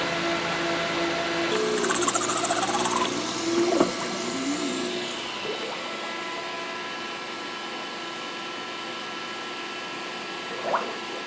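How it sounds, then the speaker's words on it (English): A small pump pushes water through a DIY evaporative air cooler in a steady, smooth, continuous flow with a soft running hum, a little louder at first, with a few faint clicks and knocks along the way. "Super smooth water flow now, not seeing any bubbles at all."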